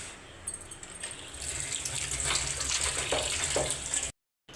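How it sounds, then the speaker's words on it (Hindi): Tomatoes being rinsed under a running kitchen tap, water splashing steadily and fairly close for about four seconds before cutting off abruptly, with no one talking. "टमाटर पहले धो लूँगी मैं।"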